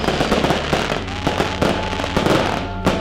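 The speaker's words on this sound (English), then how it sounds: "there was people everywhere and firecrackers going off" Firecrackers bursting outdoors among a crowd at a night celebration, a loud run of sharp cracks and pops coming in irregular clusters over a constant background rumble.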